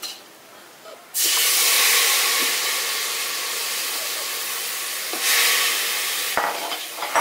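Tomato pieces go into a pan of cooking bottle gourd, setting off a loud, sustained hiss of sizzling that swells again near the end, with no one speaking.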